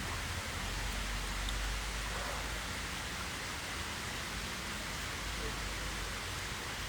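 Rain falls on an outdoor pond, a dense, even hiss of drops that stays steady and fairly close throughout.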